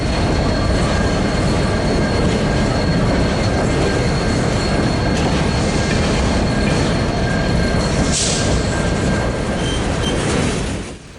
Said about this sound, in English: L571 is one of CN's local freights, hence the L in the symbol.